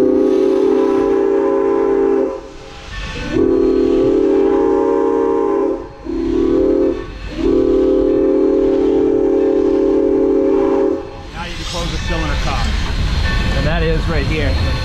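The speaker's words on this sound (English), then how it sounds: "Grab the whistle cord." A steam locomotive whistle blows loud and close in long sustained blasts with short breaks, giving way to chuffing and rail noise at the end.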